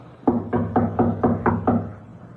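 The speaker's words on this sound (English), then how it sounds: "Knock again." Six evenly spaced knocks on a door, firm and close, rapped in a steady rhythm in an old 1940s radio espionage drama, with no voices over them.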